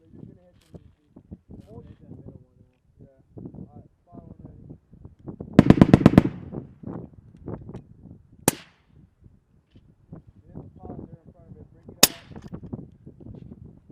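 Gunshots at targets on a shooting range crack out as one loud burst of rapid reports followed by two sharp single shots, between quieter handling noises and talk.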